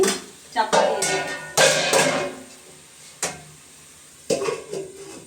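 Eggplant pieces dropped into a pan of fish curry: clattering metal knocks and scrapes of utensils against the pan in short separate bursts, with brief sizzling between them.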